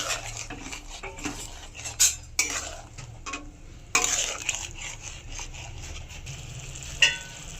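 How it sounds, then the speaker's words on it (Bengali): Green peas go into a frying pan and are stirred with a utensil, giving scattered scraping clinks and a soft sizzle with short louder knocks against the pan, no talking. "মটরশুঁটিটা দিয়ে দেব।"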